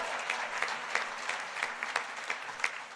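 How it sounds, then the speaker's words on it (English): Scattered audience applause at a Labour Party banquet in Bermuda, fairly faint and distant, with a handful of sharper individual claps standing out over a soft continuous patter. "It's all right, you can clap."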